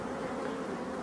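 Drone bees buzzing inside an open beehive during inspection, a steady close dense hum filling the moment without pause.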